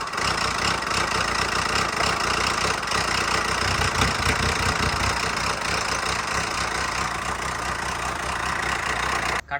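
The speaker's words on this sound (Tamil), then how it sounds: "வண்டியில் சைலன்ஸை கழட்டி விட்டுன மாதிரி சவுண்டு வருது." A Ford Ikon car engine runs with its silencer removed, making a loud, continuous, rough, rumbling roar that stays steady throughout at close range.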